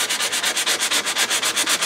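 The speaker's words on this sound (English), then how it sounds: "It's just a little bit of sanding." Sandpaper scrubs the coating off packaging cardboard in quick, even back-and-forth strokes, a close, loud rhythmic rasp of about ten strokes with no voices.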